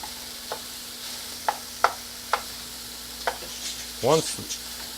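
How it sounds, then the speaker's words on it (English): Sausage browning in a pan gives a steady low sizzle, broken by several sharp scraping stirs and clanks from a utensil, with one louder scrape near the end. "we're waiting for our sausage to brown completely"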